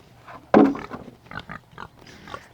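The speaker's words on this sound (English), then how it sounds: "I don't know if you can hear the pigs or not, but they're squealing." Pigs on a farm squealing and grunting at feeding time, a loud sharp squeal bursting out near the start, then shorter broken squeals and grunts continuing at moderate level.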